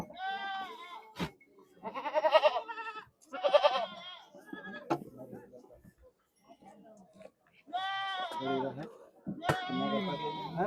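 Goats bleat repeatedly nearby at a goat market in Dhanaula, loud wavering calls in bursts separated by quieter gaps, with some faint voices in between.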